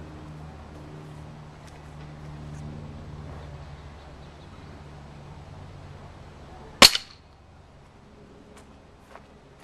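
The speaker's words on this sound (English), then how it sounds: "I'm gonna shoot it from about 10 feet in this area right here." A single sharp crack of a pellet gun fired from about ten feet at a homemade pellet target, loud and abrupt against a quiet outdoor background with a faint low rumble before it.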